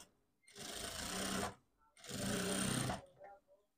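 Sewing machine stitching lehenga fabric and its lining together, two sustained whirring runs of about a second each separated by a short pause, close and steady.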